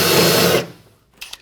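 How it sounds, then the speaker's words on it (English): A loud, steady drill whine boring into aluminum runs for over half a second, then stops abruptly, followed by a couple of faint clicks. "I want to drill just long enough to give me a little bit of a divot in the aluminum."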